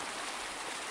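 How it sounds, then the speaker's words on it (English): A river stream flowing steadily nearby, a dense unbroken rush of water that holds even and loud without any talk. "I made it all the way down to the other river"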